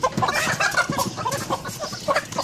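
Desi hens cluck in a rapid, uneven series of short, close calls, one after another, with no voices over them.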